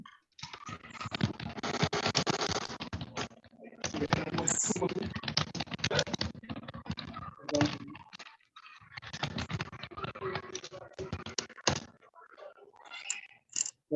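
Computer keyboard being typed on during an online class call, clattering bursts of keystrokes in quick irregular runs with brief pauses between them, close and moderately quiet.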